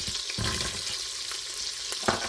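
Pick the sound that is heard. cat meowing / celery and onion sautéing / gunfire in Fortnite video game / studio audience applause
celery and onion sautéing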